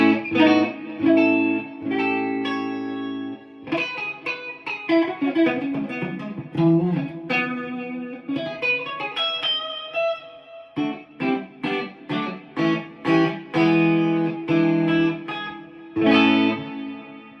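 A Stratocaster-style electric guitar on its middle pickup alone (position 3) plays a melodic line of picked notes and chords, with bright clear attacks, sustained ringing tones and brief pauses between phrases.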